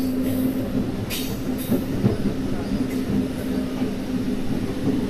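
Tenali to Repalle passenger train heard from on board, a loud, steady rumble of wagons rolling on the track, with metallic wheel squeals and faint rhythmic clatter.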